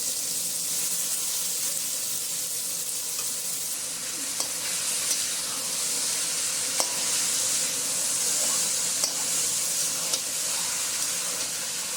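Boiled, pressure-cooked banana flower being fried and stirred in a pan for a Bengali curry, giving a steady broad sizzle with occasional soft scrapes and clicks throughout, no talking.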